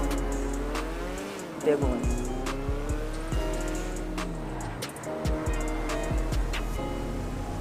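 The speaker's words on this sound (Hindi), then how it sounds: "इसका साउंड जो है भाई काफ़ी ज़्यादा तगड़ा है यार इस गाड़ी का" Car engine roaring in a GTA video game, loud revving that rises and dips in pitch with brief tire squeals, while someone talks over it.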